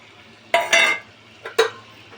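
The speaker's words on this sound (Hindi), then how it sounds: "तेल हल्का मिला देता हूँ।" A spoon stirs onion-garlic paste and oil in a pan, two short close scraping bursts against metal over a quiet background, no talk.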